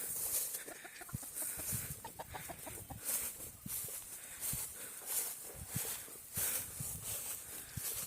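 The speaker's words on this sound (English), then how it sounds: "All the hens are relaxing here." Several hens cluck softly and irregularly nearby, with scattered short calls and faint farmyard background noise, no talking.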